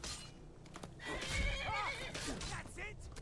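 A horse whinnies loudly in the middle of a fight in Skyrim Special Edition, with hoof clip-clops and game sounds and a voice talking underneath.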